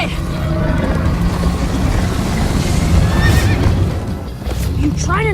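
Horse neighing and galloping during a chase in the Minecraft: Story Mode video game: rapid hoofbeats and a rumbling chase soundtrack with whinny-like calls near the end.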